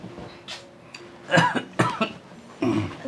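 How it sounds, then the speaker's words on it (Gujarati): Several harsh coughs in quick succession, close and fairly loud, with short pauses between bursts. "ખબર તો છે કે એને ઉધરસ બંધ જ નથી થતી"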